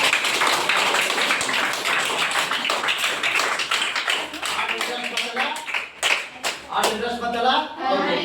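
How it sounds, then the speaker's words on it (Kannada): Students in a classroom get loud applause, a dense burst of many hands clapping at close range that thins into scattered claps toward the end, with voices talking over the closing part. "ಓಕೆ ಜೋರಾದ ಚಪ್ಪಾಳೆ ಅವರಿಗೆ"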